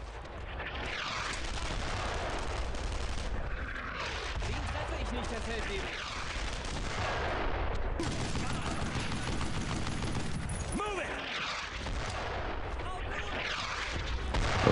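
Mortar fire in the World War II shooter Brothers in Arms: Road to Hill 30, with heavy booms and crackling gunfire layered into a dense, continuous battle din while voices talk over it.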